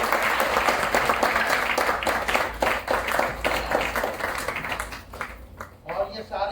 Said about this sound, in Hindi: श्याम सर के लिए ताली होनी चाहिए।